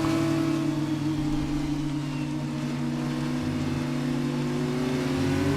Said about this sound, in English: how good do these cars sound when they come off throttle?